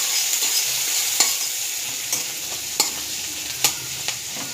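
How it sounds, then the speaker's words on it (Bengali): Chopped onions and slit green chillies frying in mustard oil, a bright steady sizzle with sharp spatula taps and scrapes every second or so, close up and without speech. "কুচি করে কেটে রাখা পেঁয়াজ এবং চেরা কাঁচা লঙ্কাগুলো তেলের মধ্যে দিয়ে দেবো"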